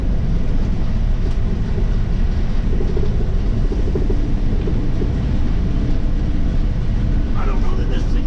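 A 1975 cab-over heavy rescue truck turns around on a test drive, its loud, steady engine rumble and road roar heard from inside the cab, with a voice speaking over the noise.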